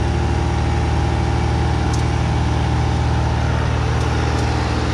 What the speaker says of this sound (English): Using the skid loader, we're able to pick up all that dirt.